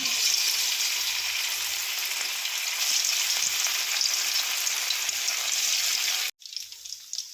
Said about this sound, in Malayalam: ചിക്കനൊക്കെ നമുക്ക് തിരിച്ചും മറിച്ചുമൊക്കെ ഇട്ട് മൂപ്പിച്ചെടുക്കാം